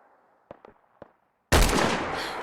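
A few soft taps give way to a single loud, sharp crack of a .308 rifle in Fallout 4 survival mode, with a reverberating tail that fades out slowly.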